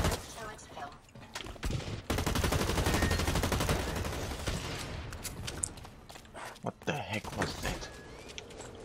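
Rapid gunfire from the shooter game Blacklight Retribution plays loud and dense, with bursts of automatic fire and sharp single shots packed together across the whole stretch, and a voice breaking in now and then.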